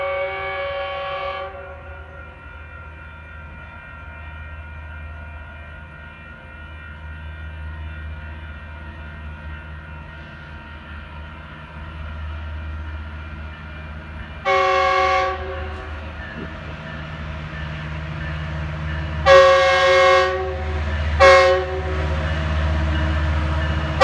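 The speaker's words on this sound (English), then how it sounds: "here comes eastbound Metro Lane 358 to San Bernardino downtown" An eastbound Metrolink commuter train bound for downtown San Bernardino pulls in, a low steady rumble building throughout, with a tonal horn sounding at the start and several more horn blasts near the end.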